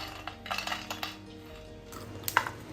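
Crispy air-fried masala peanuts being tipped onto a platter, a few close clinks and scraping taps of nuts and utensil against the dish, sparse and light, with a brighter rattle near the end.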